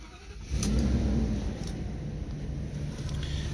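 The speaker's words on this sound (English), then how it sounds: "You turn the car back on." A Thor ACE 27-foot motorhome with a V10 engine starts up: a short crank, then the engine catches and settles into a loud, steady low idle rumble close by.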